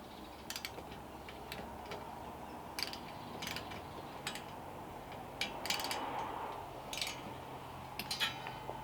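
A ratchet wrench with a 10 mm socket tightens the seat slider bolts on a Scion tC, giving a few short bursts of clicking spread across a quiet background with no talk.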